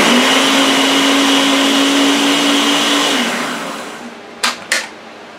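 A food processor chops kielbasa sausage in a loud, steady whirring run that cuts off and winds down, followed by two brief pulses near the end.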